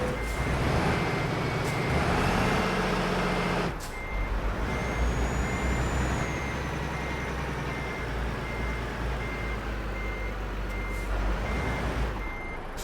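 Reversing beeps from a truck in Euro Truck Simulator 2 repeat steadily over a low engine rumble, with an air-brake hiss partway through and no talking.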